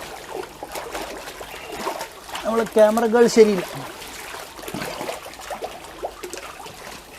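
Water trickling and pouring steadily into a backyard fish pond, a continuous splashy stream close by, with people talking over it.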